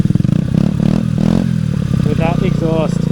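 A Honda motorbike with a loud, rowdy aftermarket exhaust revs hard nearby, throttle blips rising and falling in a throaty rasp, with a person speaking over the engine.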